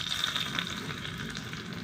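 Onions dropped into hot oil for a home-cooked sambar, frying with a steady, fairly quiet sizzle and crackle that holds evenly throughout, with no voices.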